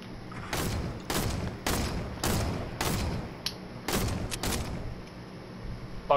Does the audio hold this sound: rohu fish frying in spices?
no